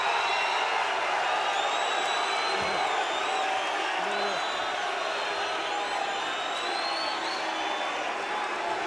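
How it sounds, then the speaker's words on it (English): A 1995 UFC arena crowd roars continuously after a bout, a dense wall of cheers and boos that holds steady and loud throughout, with some faint tonal noise above it. "I don't know what's louder, either the boos for Tank or the cheers for Severn"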